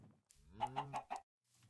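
Chickens in the Minecraft video game cluck in a short run of four quick, bright calls, clear and moderately close, with brief quiet gaps on either side.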